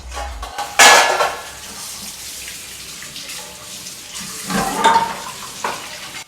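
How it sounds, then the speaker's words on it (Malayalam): Metal cooking pots, pans and utensils clatter while being washed under running water at a kitchen sink, with two louder bursts of clanking over a steady background and no talking. "തലേന്ന് മോനെന്തോ കുക്ക് ചെയ്ത പാത്രങ്ങളൊക്കെ കുറച്ച് കഴുകാനുണ്ടായിരുന്നു"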